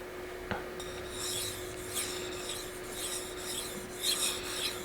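A steel blade is sharpened on an Aotoshi 2000 green brick water stone with slurry left on the surface, giving close, rhythmic gritty rasping strokes in repeated back-and-forth passes.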